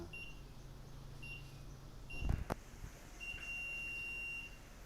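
Short electronic beeps from a wireless crane scale's countdown timer, a few brief tones and then one longer sustained beep, faint against a quiet room with a clunk midway.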